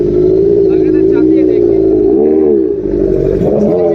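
A motorcycle at a moto fest restarts after stalling and settles into a loud, steady engine note with small throttle swells, close by, with voices talking over it.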